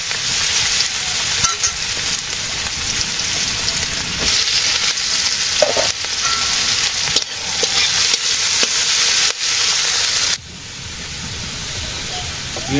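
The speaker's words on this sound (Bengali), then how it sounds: "পেঁয়াজ ভাজির সাথে সাথে আলু ভাজি হয়ে গেছে" Onions and potatoes fry in a pan with a loud, steady hiss and sizzle, broken by occasional scraping stirs.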